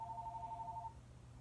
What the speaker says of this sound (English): That's the landline phone.